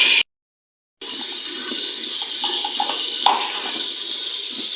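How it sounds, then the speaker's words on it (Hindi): Ginger-garlic water being poured into masala for biryani, a steady splashing pour that cuts out briefly to silence and then resumes with gentle trickling and small clinks. "मैं इसके अंदर पानी ऐड करूँगी, जो कि अदरक लहसुन वाला पानी है"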